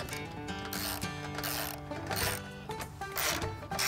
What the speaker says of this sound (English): we'll use our 17 millimeter wrench to tighten that into place